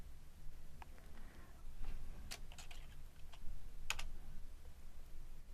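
Functions being typed into an input field on a computer keyboard: light, close key clicks in small irregular clusters, with one sharper tap near the end, over a low steady background hum.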